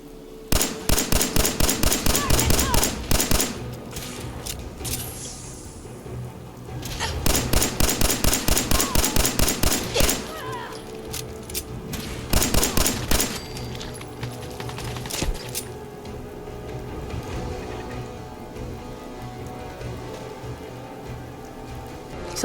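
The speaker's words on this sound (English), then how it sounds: "I don't know if the turret's supposed to go off" Automated turret in the Fallout 4 video game firing bursts of rapid gunshots: a long loud volley, a pause, then a second burst and a shorter third, over a steady game background.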